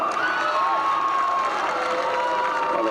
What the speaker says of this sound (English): they just announced the Cardinal final to the crowd here at Hancock, and that draws a bit of a roar from those who have hung around